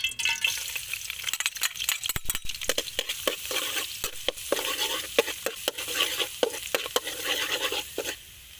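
Garlic frying in oil while being stirred, with rapid repeated scraping and clattering of a utensil against the pan over a soft sizzle, close and busy for several seconds with no talk.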